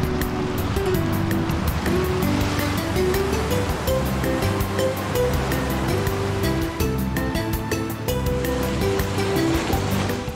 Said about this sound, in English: The Skradinski Waterfalls form a natural dam in the river